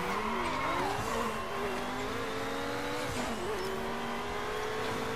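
A Saleen S7 supercar races in Midnight Club Los Angeles, its engine roaring steadily with rising and falling revs and gear shifts, loud and continuous throughout.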